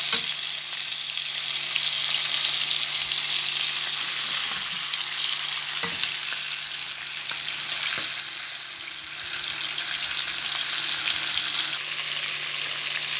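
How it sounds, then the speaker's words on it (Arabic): Chicken pieces frying in hot oil on high heat, a steady loud sizzle with occasional stirring knocks, close and continuous without any talking. "النار لازم تكون معايا عالية عشان قطع الفراخ تتحمر وما تنزلش المية بتاعتها"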